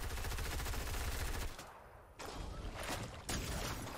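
Rapid shotgun and gunfire bursts from an online shooter video game pound almost continuously and loudly, dropping out briefly in the middle before resuming in dense volleys.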